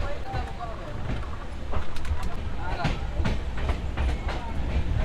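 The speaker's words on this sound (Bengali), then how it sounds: "ট্রেন কিন্তু এক মিনিটের জন্য দাঁড়িয়েছিল এবং ডিপার্চার কিন্তু হয়ে গেল" A passenger train runs along, heard from inside a crowded general coach on a Kolkata to Deoghar journey: a steady loud rumble with rhythmic clicks and clatter of the wheels, under faint background voices.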